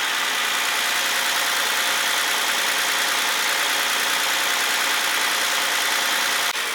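A 2012 Hyundai Veracruz with its 3.8 engine idles steadily and loudly up close, a dense, unchanging mechanical hum and whir running the full length without speech.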